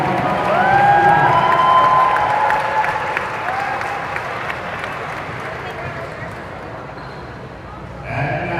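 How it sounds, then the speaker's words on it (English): A gym crowd at a high school girls' varsity basketball senior night applauds and cheers, swelling loud early with whistles and whoops, then fading to scattered clapping. "Let's give them a round of applause"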